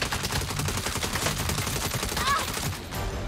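Dense gunfire rattles through a Saints Row reboot video game fight, rapid loud shots forming a near-continuous automatic barrage with game effects mixed in and some voice underneath.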